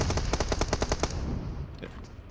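Rapid automatic gunfire in the PUBG Mobile battle royale game, about ten evenly spaced loud shots packed into the first second, then a fading rumble and faint scattered pops.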